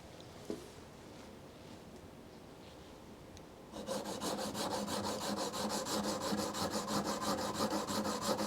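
A blade sharpened on a stone with a rhythmic back-and-forth rasping stroke that starts after a few quiet seconds and continues steadily, close and fairly loud.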